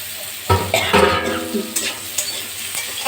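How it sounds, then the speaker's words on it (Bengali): Potatoes stirred and fried in a pan, a sudden burst of sizzling followed by irregular scrapes and clinks of a utensil against the metal, close by with a steady frying hiss underneath. "দিয়ে আলুটা দিয়ে খানিকটা নাড়তে থাকবো"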